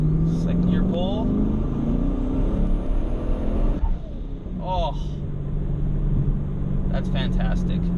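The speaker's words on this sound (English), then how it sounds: "Let's do a pull here real quick so you guys can not hear me talk. Second gear pull." A turbocharged 2013 Camaro 1LE accelerates hard in second gear, its engine drone rising steadily and loud under a brief exclamation from the driver, with faint whistling tones over the rumble.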